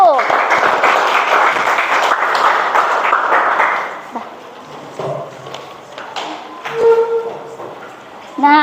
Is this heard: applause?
yes